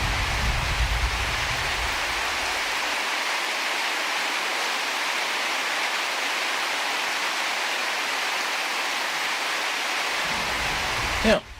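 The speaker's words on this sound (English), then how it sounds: "Maybe it's for rain effects." Steady rain-like wash of broadband noise in a misty, foggy rolling-hills video game scene, continuous and even throughout, with a brief louder burst at the very end.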